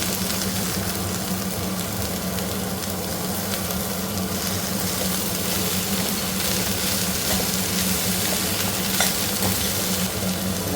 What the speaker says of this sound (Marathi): चणा डाळ थोडी फ्राय करून घेते। त्यात घालते हे पडवळ, जे आपण रात्री चिरून घेतलं।